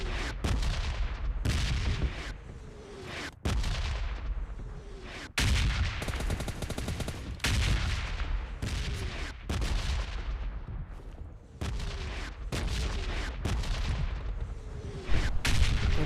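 Repeated bursts of gunfire from a battle royale video game, loud sharp shots in irregular clusters across the whole stretch with no talk.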